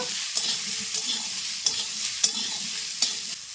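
Mango pieces with cumin stir-fry in mustard oil, a steady sizzle under a few sharp scrapes of a spoon against the pan, close and moderately loud with no talking.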